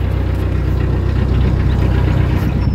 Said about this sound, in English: I'm going very slowly, by the way. Just about tick over.